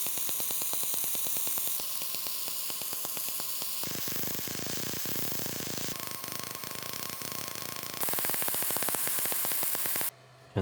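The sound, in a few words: laser engraver engraving on metal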